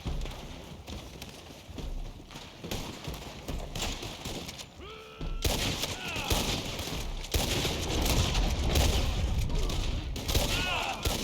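Video game gunfire: a quieter stretch of clattering shots and hoofbeats gives way after a brief pause to louder, denser volleys of rapid shots with sharp cracks and ringing tones.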